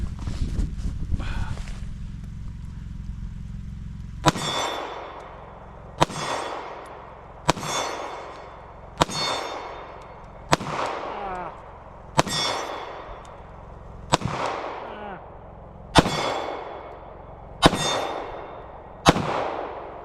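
Gunshots at steel targets by an off-grid cabin in Vermont ring out as ten evenly spaced sharp cracks, each followed by a bright metallic clang and ringing decay, loud and close, with no talk over them.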